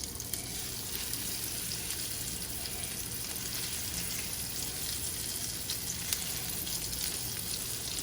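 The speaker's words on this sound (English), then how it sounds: "So going face down, hot pan, top side going down first." A salmon fillet laid face down in a hot pan sizzles in a steady, even hiss that continues without a break, moderately quiet and with no talking.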